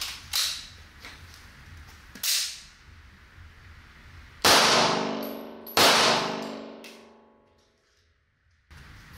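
Range shots of .40 caliber 180 grain Gold Dot hollow point and full metal jacket rounds striking covert body armor ring out as loud metallic clangs, a few sharp impacts with long ringing decays, without talk.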